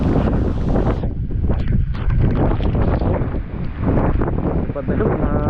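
Strong Typhoon Tino wind in Surigao City battering the microphone, with loud continuous gusts and rushing roar, a brief lull near the middle, and someone speaking intermittently beneath it.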